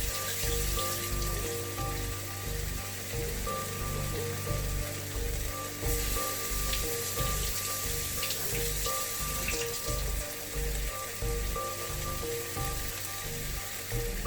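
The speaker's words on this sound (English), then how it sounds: "I'm gonna rinse it more." Canned ackee being rinsed under a running kitchen tap to wash off calcium chloride, a steady close hiss of flowing water splashing into a sink, continuous and fairly loud with no talking.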